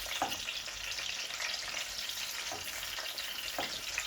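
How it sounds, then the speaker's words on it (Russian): Steady hissing sizzle of hot red pepper frying in a pan, with a few soft clicks and stirring sounds, no voices. "Вот так просто мы его прожариваем и все"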